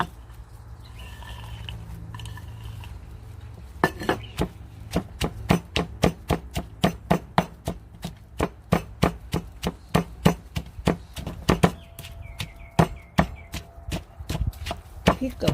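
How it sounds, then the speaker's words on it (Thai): A grandmother pounds chili and garlic in a mortar with a pestle, a long run of sharp rhythmic thuds at a steady beat, close and clear, with faint talk in the background early on. "คุณยายก็จะใส่พริกกับบุบบุบกระเทียมค่ะ"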